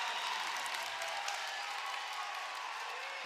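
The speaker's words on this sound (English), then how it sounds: "Listen to the home crowd go crazy" Home crowd at a high school boys basketball game roaring steadily after a late alley-oop, a dense wash of cheering and applause holding loud and unbroken throughout.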